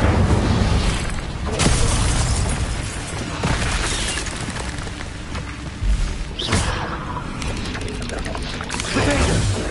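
Incendio fire spells cast in Hogwarts Legacy, loud whooshing bursts and booming blasts that repeat across the stretch over a dense roaring game background, with a voice shouting spell names in between.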